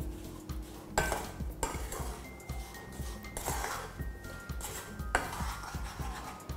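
A spoon stirs a strawberry sauce mixture in a pan over low heat, giving repeated soft scrapes and clinks against the pan in an irregular rhythm, close and moderately loud, with no talking.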